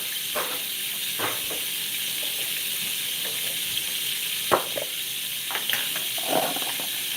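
Garlic butter steak sizzling in a pan on a home stove, a constant close hiss and crackle with occasional louder pops and spatters, and no talking.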